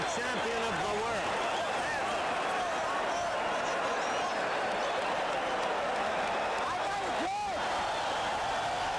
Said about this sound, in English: Now the crowd is alive